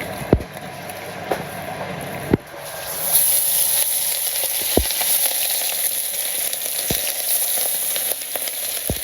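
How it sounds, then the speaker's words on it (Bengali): Fish dropped into hot oil in a village kitchen sizzle and fry steadily, a loud constant hiss that swells after a few seconds, with occasional sharp clinks of utensils and no talking. "মাছগুলা দিয়ে দিতেছি তেল গরম হয়ে গেছিল দিয়ে দিলাম"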